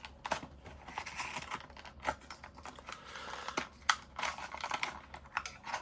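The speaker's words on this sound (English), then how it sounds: "Let me see if I can't get in there and cut some of that paper away, so I don't rip the card as much." Paper is snipped and torn away from a toy packaging card in quick, close, soft cuts and crinkles, scattered irregularly and quiet throughout, with no talking.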